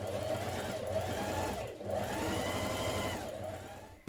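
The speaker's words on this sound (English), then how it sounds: "I'm going to top stitch up this side of the band and then continue it around the curve there" A sewing machine top stitches along a shirt band for a sleeveless Burda 6527 top, running in a steady continuous whir for about four seconds with a brief dip partway through and a stop at the end.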